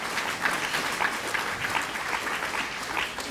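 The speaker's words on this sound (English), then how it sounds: "So I think that deserves a round of applause for his parents." An audience at an immigrant awards ceremony applauds steadily, a continuous wash of many hands clapping at moderate volume with no voices over it.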